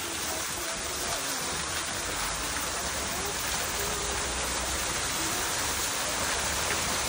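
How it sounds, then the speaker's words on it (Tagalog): A waterfall at Chin Swee temple in Genting pours in a constant, hissing rush of falling water that fills the space evenly, loud and close, with no other sounds breaking through. "nandito tayo sa waterfalls."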